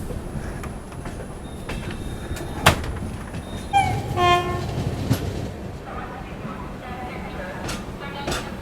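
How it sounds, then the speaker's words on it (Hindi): Humsafar Express train departing Samastipur Junction station in Bihar: steady rumbling carriages with rhythmic clickety-clack and metallic wheel squeals, a brief horn-like tone midway, heard from on board with faint voices in the background. "फाइनली 40 मिनट का ठीक ठाक हॉल्ट लेने के बाद हमारा डिपार्चर हो गया है समस्तीपुर जंक्शन रेलवे स्टेशन से"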